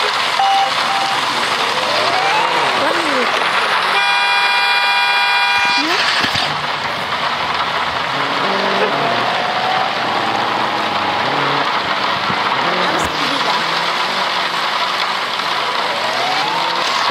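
A car horn in a video game honks in a long steady blast over a constant engine drone and busy game sounds, with people talking throughout.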